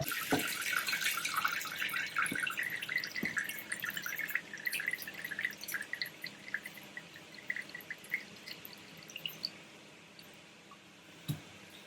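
Water drains and drips from a freshly repotted Encyclia alata orchid pot, with a cluster of rapid small trickles and drips easing into sparse, irregular single drops close by.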